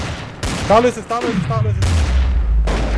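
Gunfire in the video game Trouble in Terrorist Town bursts out in loud, close cracks and booms, heard under a German-speaking player's talk.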